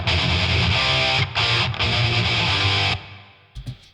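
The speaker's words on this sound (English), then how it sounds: "For rhythm guitars, they sound like this." Heavy distorted thrash metal rhythm guitars chug loudly and densely with brief stop gaps, cutting out near the end into a couple of short hits.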